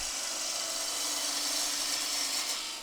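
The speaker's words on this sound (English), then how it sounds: "we're going to go with a bowl gouge" A small bowl gouge cuts a wooden spindle turning on a lathe, taking off a lot of timber, giving a steady, continuous hissing scrape that holds even and close for the whole stretch.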